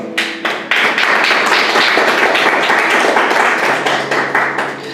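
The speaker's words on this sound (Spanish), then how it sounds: "Vamos a darle un aplauso al Señor." A church congregation claps together, a dense burst of rapid applause that starts abruptly, stays loud and close for several seconds, then begins to thin out.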